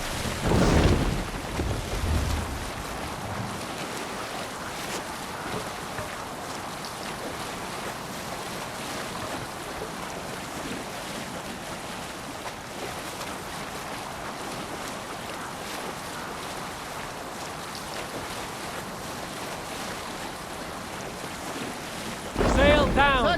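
Wind rushing over the open sea around a Viking longship under sail in Assassin's Creed Valhalla, a steady loud roar with water wash, with heavier bursts at the start and end.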